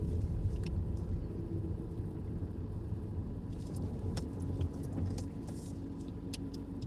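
A car engine idles while parked in a bay at the end of a mock driving test route in Newcastle-under-Lyme, giving a steady, close, low rumble that holds throughout with no talk.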